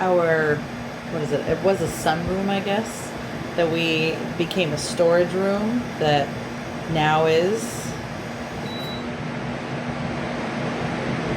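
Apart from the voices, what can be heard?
new portable air conditioner running in a back porch room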